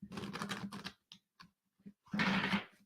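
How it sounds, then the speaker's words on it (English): A deck of cards shuffled up close, with a rapid riffling burst, a few soft taps and shuffles of the cards, then another fluttering riffle. "Let me just shuffle the cards."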